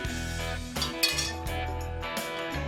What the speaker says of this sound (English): Sanitize your utensils by placing them in the bowl and then sloshing them around